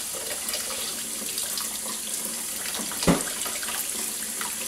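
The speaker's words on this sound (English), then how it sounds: "And then rinse them." Kitchen tap water runs steadily into a sink while raw shrimp are rinsed after deveining, a continuous close splashing hiss with a brief louder splash near the end.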